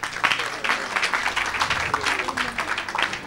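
A church congregation applauds in continuous dense clapping that holds steady throughout, with voices mixed into the crowd.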